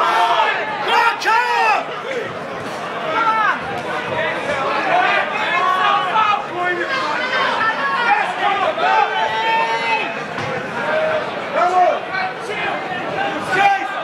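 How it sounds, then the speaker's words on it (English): A crowd at a Knuckle Up bare-knuckle boxing match keeps up a steady roar of shouting and babble from close by, with no break across the whole stretch. "These two have got the crowd up and on the edge of their seats. You can hear them behind us."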